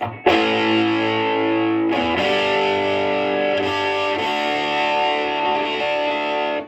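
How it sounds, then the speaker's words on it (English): A distorted electric guitar through a VHT Special 6 Ultra amp with a Hammerhead distortion mod rings out in sustained chords, struck twice and left to hang, loud and close with no voices. "that type of distortion where they cut off the lobes of the signal"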